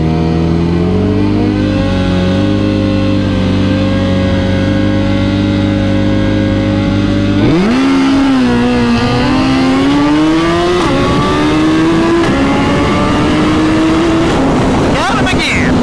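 2022 Suzuki Hayabusa motorcycle with inexpensive mods at a dragstrip, a loud steady high idle that suddenly launches into a hard, rising acceleration through several gear shifts, close and intense.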